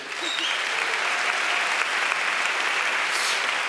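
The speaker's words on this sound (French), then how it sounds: "vous pouvez vous applaudir" A large audience applauds at the opening show of the Séries Mania 2025 festival in Hauts-de-France, a dense, steady wash of many hands clapping that holds at an even level throughout.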